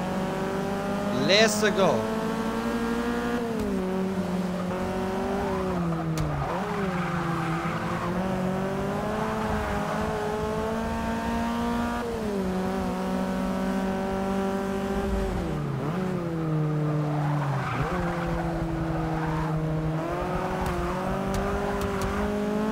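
A race car engine in Forza 6 drones and revs continuously, shifting pitch with occasional tire squeal, under a voice talking throughout.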